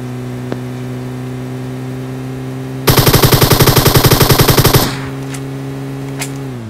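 Enemy gunfire in a battle royale video game: a sustained burst of rapid automatic shots lasting about two seconds, loud and close, over a steady vehicle engine hum.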